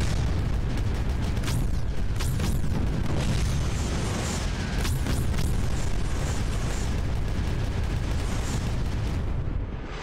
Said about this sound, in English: Just the one cannon going to town.